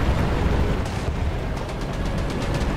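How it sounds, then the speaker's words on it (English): Gunfire and explosions from a tank battle in War Thunder, with the Vickers Mk E tank in play, heard as a dense, steady rumble of distant booms and shots over a continuous low roar, with no talking. "Oh, something's shooting."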